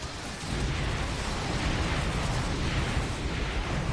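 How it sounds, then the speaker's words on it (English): Sniper cannon fire in the video game Earth Defense Force: a dense, continuous barrage of booming shots and blasts merged into a loud, steady roar that lasts throughout. "But at least I can fire a lot of shots."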